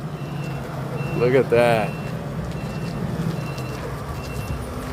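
Truck reversing alarm beeping at a hardscape and landscape supply yard as trucks are unloaded, heard alongside a brief spoken remark over steady yard noise.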